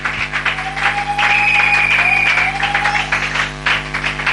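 A church congregation applauds loudly and steadily throughout, with sustained clapping and a thin whistle-like tone threading through the crowd noise.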